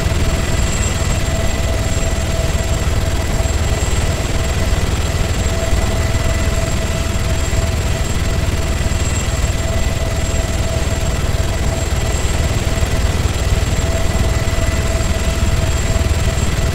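Helicopter from the ArmA 3 video game, a steady dense rotor and engine drone holding loud and constant throughout with no break, with no voices over it.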